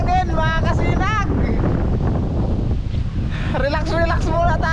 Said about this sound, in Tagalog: Ay sarap ng hangin mga kasinag.